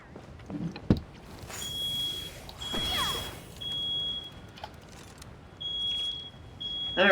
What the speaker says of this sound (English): it's muting because I hear the smoke alarm